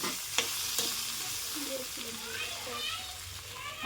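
Soaked sago is tipped into a hot pan and stirred, making a close, continuous sizzle with scraping and clinking from the spoon, and a voice talks over it.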